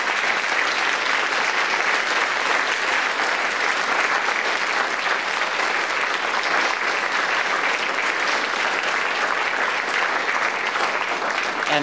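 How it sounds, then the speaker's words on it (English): A large audience at a lecture applauds its speakers continuously and evenly, a dense, sustained wash of clapping that holds at the same level throughout. "please join me in applause for our speakers"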